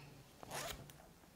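A zipper on a handmade fabric wallet runs once in a short, quiet rasping pull, followed by a faint click.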